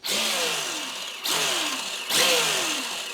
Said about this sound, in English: Give you guys a little bit of the forward and brake.